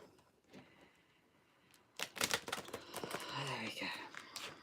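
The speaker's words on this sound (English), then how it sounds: "let's get some more shuffling going on" Oracle and tarot cards being shuffled by hand, a faint riffle at first, then a dense run of crisp, rapid card slaps and rustles close by, with a voice speaking faintly underneath.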